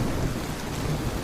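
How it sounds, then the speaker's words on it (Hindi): Heavy cartoon rain pours in a dense, steady hiss with a low thunder rumble underneath, near and loud throughout. "सुनहरी तेज बारिश में अपने बच्चे कुकू को लेकर नदी किनारे बैठी थी"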